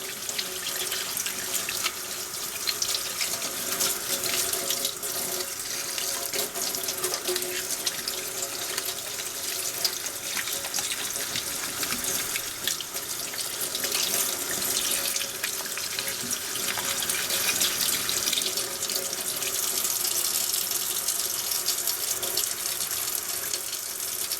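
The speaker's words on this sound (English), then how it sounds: "A little scrubbing right now." A tap runs steadily into a sink while an old Tootsietoys die-cast toy is scrubbed under the water, a continuous close hiss and splash with faint scrubbing scratches throughout and no talking.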